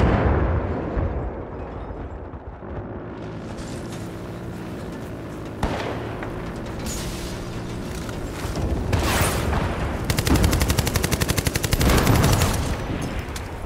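Video game battle with dense gunfire and explosions throughout, bursts of rapid automatic fire and booming blasts growing louder near the end, no talking.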